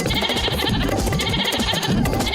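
A cartoon goat bleats loudly and continuously over a busy, dense animated soundtrack, with layered noise and music filling the scene for the whole moment.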